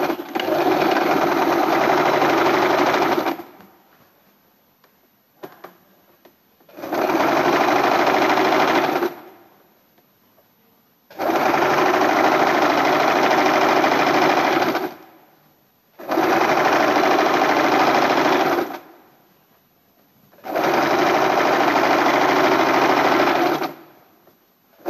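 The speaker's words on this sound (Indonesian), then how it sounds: "Kita kunci dulu, dijahit 1 mili dari tepi." A sewing machine stitches 1 mm from a fabric edge in white thread, a loud, steady mechanical whir that runs in five long bursts separated by short silences, with no talk.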